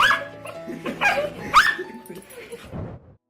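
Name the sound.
dog greeting owner returning home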